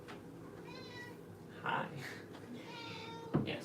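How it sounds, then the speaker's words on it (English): A house cat meows at a door, a few short cries heard faintly in a quiet room under a low background hum, with a person briefly saying a word. "There's a cat banging down my door."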